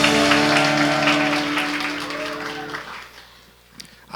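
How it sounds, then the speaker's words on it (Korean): Applause from a church congregation during a Sunday service, a dense steady clapping wash over sustained organ or keyboard chords that fades out after about three seconds. "하나님께 영광의 박수 올려드리겠습니다"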